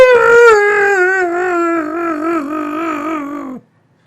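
A person imitates a coyote howl near a group of coyotes: one long, loud, wavering vocal howl that slides gradually downward, sustained for over three seconds before stopping abruptly, with no other talk.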